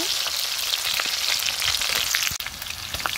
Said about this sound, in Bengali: রসুন পেঁয়াজ খুব ভালোভাবে ভেজে নিচ্ছে।